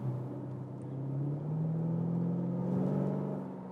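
A Lexus RC F's 5.0-litre 480 hp V8, partly artificially enhanced, hums steadily from inside the cabin, a smooth low drone that rises gently in pitch as the car accelerates, with no talk over it.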